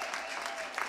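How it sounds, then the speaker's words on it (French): A church audience claps for the children after their performance, a brief burst of dense clapping with some voices mixed in. "on peut les applaudir les enfants parce que c'était quelque chose pour eux"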